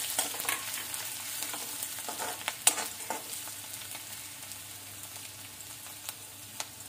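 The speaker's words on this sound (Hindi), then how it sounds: "लहसुन, अदरक किसी, हरी मिर्ची, इनको भुनने देंगे थोड़ा" Garlic, ginger and green chillies frying steadily in a pan, a soft continuous sizzle with a few sharper crackles and spoon scrapes, close and alone with no talking.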